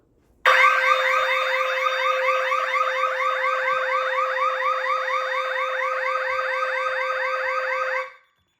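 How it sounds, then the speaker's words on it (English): A DSC Neo security alarm panel goes off after its motion sensor is tripped, blaring a loud, steady, rapidly warbling electronic siren tone for about eight seconds before cutting off abruptly. "the alarm panel has went into alarm instantly because the motion sensor was tripped"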